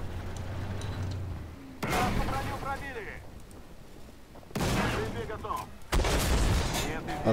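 Several heavy booming T-80 tank cannon shots in Armored Warfare, each followed by a rumbling decay, with someone talking loosely between the blasts.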